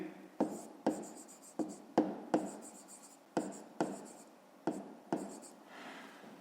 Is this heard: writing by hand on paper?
yes